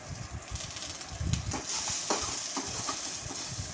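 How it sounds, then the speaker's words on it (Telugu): Onions frying in a kadai hiss and sizzle steadily up close, with scraping stir strokes breaking in now and then. "ఇప్పుడు అదే కడాయిలోకి ఆనియన్ వేసి"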